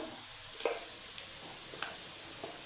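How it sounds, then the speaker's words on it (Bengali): Spice masala with chopped onion, turmeric, chili, Kashmiri chili, cumin and coriander powders and ginger-garlic water is stir-fried in a pan, giving a steady close sizzle with a few soft stirring scrapes. "দিয়ে ভালো করে আমি মশলাটা কষাতে থাকবো"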